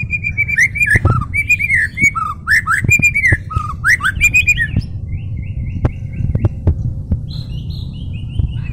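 A white-rumped shama sings loud, varied whistled phrases for the first five seconds, then softer, higher chirps continue intermittently over a low background rumble.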